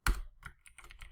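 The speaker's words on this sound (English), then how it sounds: "So I just typed that down because I don't want to forget about that" A computer keyboard is typed on in a short, quiet burst: one sharp initial keystroke followed by several softer, quick clicks close by.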